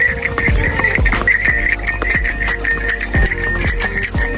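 Horse hooves clip-clopping at a steady walking rhythm while riding toward a hilltop shooting area in Kanyam, loud and close, with a bright jingling bell ringing along and no talk.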